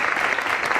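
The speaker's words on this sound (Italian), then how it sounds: "applausi esagerati" A short burst of dense studio-audience applause at an Italian gala television show, loud and continuous throughout.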